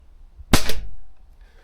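A single sharp air rifle shot fired with JTS Dead Center pellets, a loud close crack with a short fading tail.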